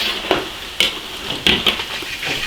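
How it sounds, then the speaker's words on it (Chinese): Potatoes deep-fry in a wok of oil until golden, giving a steady close sizzle broken by a few sharp clinks and scrapes of a utensil against the pan. "把土豆炸至金黄"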